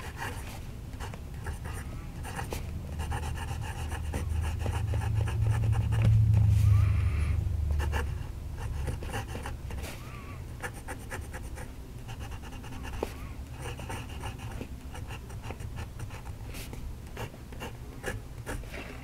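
A Majohn P136 fountain pen's medium steel nib scratches across paper in a series of short, faint, close strokes, with a low rumble swelling briefly in the background.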